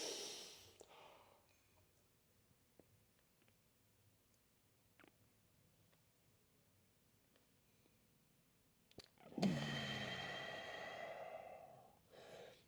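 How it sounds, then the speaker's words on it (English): A long, forceful pressure-breathing exhale rushes out near the end of a deep squat stretch, after a quiet stretch of soft clicks and faint breaths. "We're going to use our pressure breathing."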